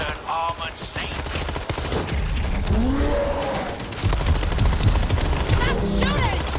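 Gunfire in the World War Z video game, with rapid bursts and a dense clatter of automatic shots alongside growls and creature noises, loud and continuous throughout.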